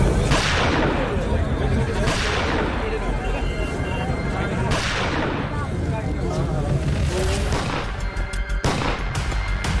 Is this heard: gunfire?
yes